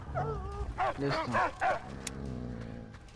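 A dog in the Mad Max video game barks and yips in a short burst of several close calls, followed by quieter engine-like rumble in the background.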